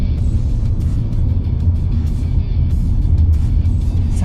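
Steady low rumble of road and tyre noise inside a car cabin, running on Dunlop LM705 tyres at 40 km/h, a constant muffled drone without speech.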